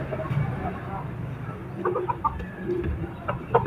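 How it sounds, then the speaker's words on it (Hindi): A rooster clucks in short, close bursts amid farmyard background noise, with soft voices mixed in. "ये है जी हमारा सील मुर्गा।"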